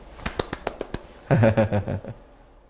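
Six quick, sharp hand claps in a brisk row, close and clear, followed by a short burst of voice-like sound and then quiet.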